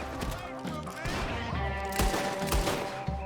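Rapid gunfire crackles in Red Dead Redemption 2, repeated shots and volleys layered over music and voices, dense and fairly loud throughout.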